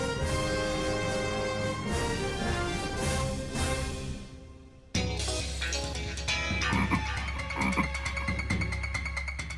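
A voice imitates a frog's croak, repeating deep ribbit-like calls in a steady run. The calls break off midway and are followed by a busier, fuller passage of croaking sounds.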